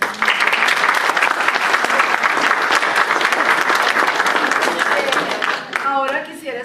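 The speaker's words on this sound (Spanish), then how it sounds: "yo creo que ellos se merecen un aplauso." A university lecture audience claps steadily in sustained applause, dense and fairly loud, with some voices mixed in before it thins out at the end.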